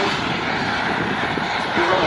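Aero Panda Bull turbine RC jet plane flying at the Joe Nall 2025 event, a steady loud broadband engine roar holding throughout with slight swelling near the end.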